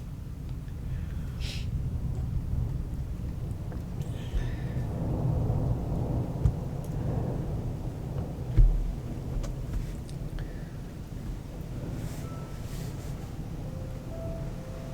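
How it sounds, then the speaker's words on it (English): Low, continuous rumble of thunder rolling through a stormy backdrop, steady and moderately loud with a brief sharper crack partway through, over a calm nail-polish painting session with no talk. "I mean, the thunder is very nice."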